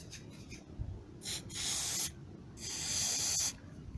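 Two long hissing bursts of aerosol spray on a 1991 Kawasaki ZZR600 motorcycle, each lasting about a second, with a shorter puff before them and quiet handling noise in between.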